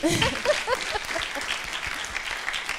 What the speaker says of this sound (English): A round of applause for Taboka, actually.